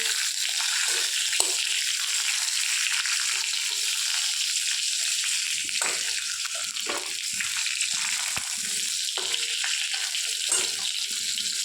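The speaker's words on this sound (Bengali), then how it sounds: "আমি মাছের মাথাটা ভেজে নিচ্ছি" A catla fish head frying in hot oil with a pinch of turmeric gives a constant bright hiss and crackle, close and even, with occasional soft knocks of handling under the sizzle.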